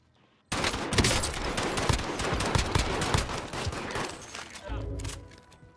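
Gunfire in Call of Duty Warzone bursts in abruptly and rattles as dense, rapid volleys for several seconds, close and loud, easing briefly before another burst near the end.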